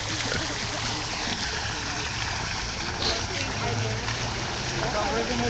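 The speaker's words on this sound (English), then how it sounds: "The water is really loud though." Loud rushing water fills the scene as a steady broadband roar, masking everything else, with people talking faintly underneath.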